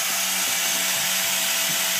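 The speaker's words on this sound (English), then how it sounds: "The drill is getting weak. So now I'm spinning the oil pump in there" Power drill spinning the oil pump of a Mustang 5.0 engine during a Trick Flow stage 1 install, a steady continuous whirring drone with a gritty mechanical grind, close and loud throughout.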